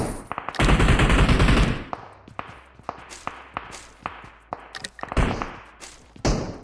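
Gunfire in the PUBG Mobile video game, with a sustained burst of automatic fire followed by scattered single shots and short bursts, loud and near.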